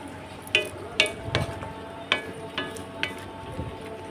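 Spiced meat curry frying and being stirred in a pan, with a steady low sizzle and a series of sharp scraping clacks of the spoon against the pan at irregular intervals, close and moderately loud.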